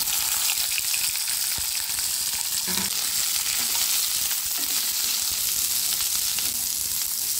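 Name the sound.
paneer frying in a pan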